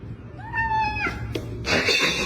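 A single clear, drawn-out cat meow up close, followed by rustling and a brief scrape.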